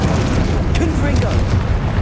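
Confringo explosion spell cast during Hogwarts Legacy combat on PS5, a steady rumbling blast with a rising whoosh, loud and close, mixed with ongoing game effects and a brief voice.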